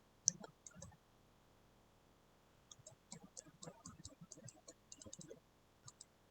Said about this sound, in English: I'm hitting delete on the keyboard